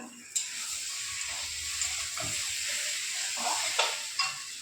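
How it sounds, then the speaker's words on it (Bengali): Teasel gourd and potatoes sizzle and fry with spices in a pan, a steady close hiss broken by a few soft scraping stirs of the spatula. "কাঁকরোল আলু মশলার সঙ্গে ভালো করে আবার 2 মিনিট কষিয়ে নিলাম।"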